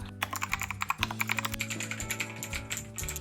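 Rapid, dense clacking of a custom mechanical keyboard being typed on, many crisp keystrokes in quick succession, close and steady over a low background hum.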